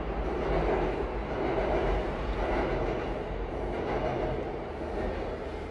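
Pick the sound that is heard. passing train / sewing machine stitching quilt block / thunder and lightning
passing train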